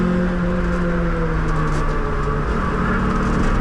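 An underpowered Toyota Celica engine drones loudly and steadily at full throttle on the Nürburgring, a sustained close roar with tonal harmonics slowly shifting, no voices.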